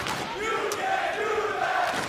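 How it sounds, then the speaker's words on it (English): Crowd at an esports event chanting in unison, a loud, sustained wall of voices with a rhythmic chant carried over the whole stretch, steady and close-miked. "Is that a "you can't do that" chant?"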